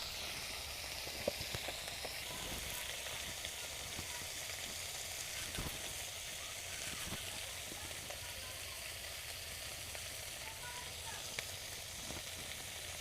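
Garlic, green chilli and onion fry in hot oil with a steady, dense sizzle and crackle that holds evenly throughout, close and fairly loud, with a few faint stirring knocks.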